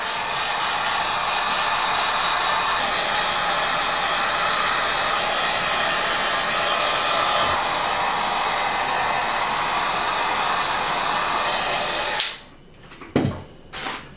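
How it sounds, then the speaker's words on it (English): A heat gun blows a steady, loud rushing roar while heating foam to give a stone texture on a DIY Halloween tombstone, running unbroken for about twelve seconds before cutting off into a few faint knocks. "we take the heat gun and we heat up the foam until it starts contracting and expanding"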